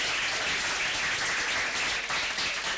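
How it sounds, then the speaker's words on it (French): Applause for a student at an agricultural high school award ceremony, a dense wash of many hands clapping, fairly soft and even throughout, with no talking over it. "on peut l'applaudir bien fort s'il vous plaît"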